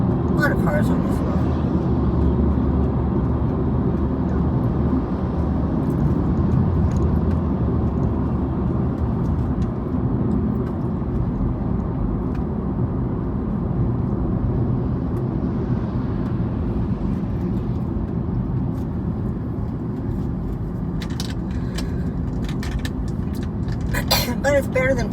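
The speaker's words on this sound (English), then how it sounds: "Cars on this road." Cars on a busy road, heard from inside a moving vehicle, make a steady rumbling drone with a few passing swells and faint clicks near the end, and talk sits over it.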